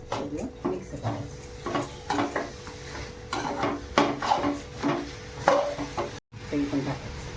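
A spoon stirs chopped jaggery into the modak filling mixture in a pan, giving a repeated scraping and rubbing rhythm at moderate loudness with a faint sizzle underneath and one brief dropout near the end.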